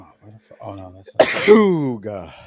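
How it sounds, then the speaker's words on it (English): A single loud sneeze bursts out between casual talk among a few people, followed by a drawn-out vocal sound; voices chat before and after it. "That was a sneeze."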